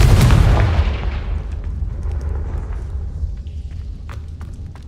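Confringo fire spell in the Hogwarts Legacy video game, a loud booming blast at the start that rumbles and fades into a long low decay with faint crackles.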